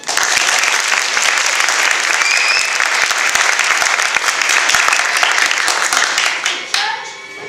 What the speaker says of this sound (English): Let's start them off with a round of applause.